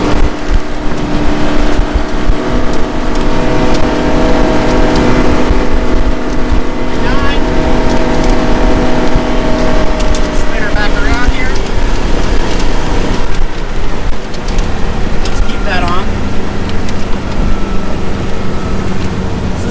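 A 2004 Chaparral 260 SSi motorboat engine roaring loudly and steadily as the boat runs across the water at about 48 to 49 mph, its pitch shifting slightly, with wind and water noise throughout.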